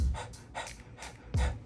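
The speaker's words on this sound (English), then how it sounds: "A normal panting rate is something like" Dog panting at a normal rate, close and clear, with four to five evenly spaced breathy huffs in a steady rhythm and no talking.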